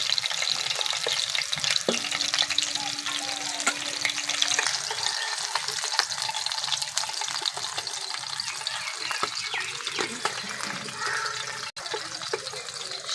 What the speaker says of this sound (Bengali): মশলা বাড়তে বাড়তে দেখি মাছটা ভালো করে ভাজা হয়ে গেছে